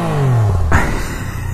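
Close-up engine note of a Yamaha Niken three-wheeled motorcycle, a falling rev that drops away, then a short sharp clack and a rough idle-like rumble.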